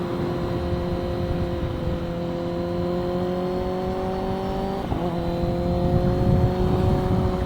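A Kawasaki Ninja ZX10R 1000 sportbike engine drones steadily and loud, its rising harmonic whine climbing through acceleration, with a brief gear-change dip near the middle before pulling on.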